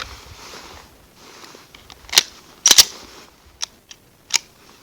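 Gunshots from a firearm fired slowly at a shooting range by a shooter returning after a long break: several sharp, close reports, including a tight pair, spaced irregularly over quiet outdoor background.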